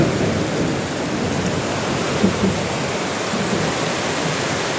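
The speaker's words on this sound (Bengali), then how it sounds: "এরকম ভাবে বৃষ্টি পড়ছে" Heavy rain pours onto a ship in a storm, a dense steady roar of broadband noise throughout with a couple of faint low rumbles, close and loud with no talking.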